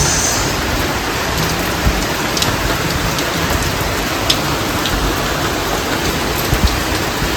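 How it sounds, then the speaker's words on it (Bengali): Heavy evening rain pours down in a dense, constant hiss with occasional sharper drops striking nearby surfaces; no one speaks. "রাতে আবার ঝমঝমিয়ে বৃষ্টি শুরু হয়ে গেছে"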